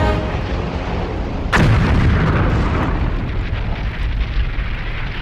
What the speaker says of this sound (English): One Avenger unleashes its rockets on a small arms factory.